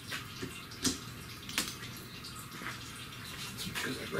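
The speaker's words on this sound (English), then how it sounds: "Let that finish draining." Transmission fluid draining from a 2009 Toyota Camry: a steady, faint trickle of liquid runs continuously in a garage, with a few soft clinks and drips over it.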